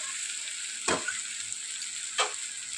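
Bitter gourd, potato and eggplant stir-fry in a wok with mustard and cumin paste, giving a constant close hiss broken by two sharp spatula scrapes.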